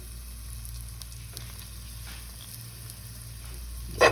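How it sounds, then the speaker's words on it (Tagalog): Garlic sautéing in a pan for a home-cooked dinner dish, a steady soft sizzle and crackle throughout, ending in a brief louder hiss. "nagigisa po tayo ng bawang"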